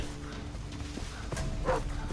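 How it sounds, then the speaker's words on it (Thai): A dog barks a few times in Far Cry 3, faint and somewhat distant over the game's low ambient background. "มีเสียงเห่าอยู่"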